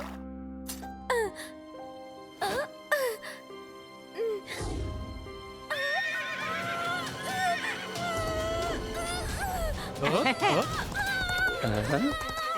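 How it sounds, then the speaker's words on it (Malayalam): A cartoon horse whinnies and gallops during a riding scene, with sharp neighs early on, then busy hoofbeats and a music score. "എത്ര മനോഹരമായിട്ടാണ് കുതിര ഓടിക്കുന്നത്."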